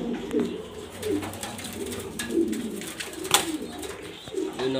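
German Beauty Homer pigeons coo softly in a loft, low murmuring calls repeating under steady background noise and faint rustling.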